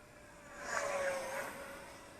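Eachine F-16 RC jet with a 50mm electric ducted fan cruising at part throttle, a steady airy whine that swells as it passes nearer, then eases off, heard alone outdoors.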